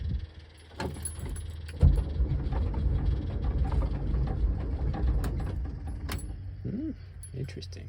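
A VW Double Cab engine cranks over with a rhythmic mechanical churning from the starter, running steadily for several seconds with no catch, while someone speaks briefly nearby.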